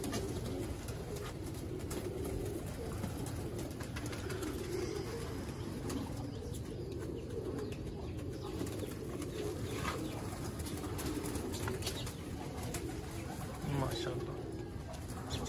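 Teddy pigeons coo on a rooftop in a low, steady, murmuring stream with occasional wing flaps, set against constant outdoor background noise and someone talking over it.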